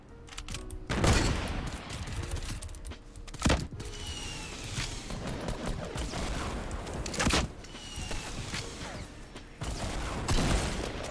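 Shotgun blasts in Fortnite gameplay: several heavy booming shots spaced a few seconds apart over a busy bed of game noise, with no talk during the firing.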